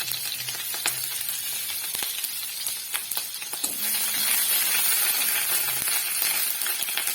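Ginger and chopped chilli sizzle in a hot pan as garlic cooks alongside, a steady bright crackle with a few soft clinks, swelling louder in the second half as more goes in; no talking.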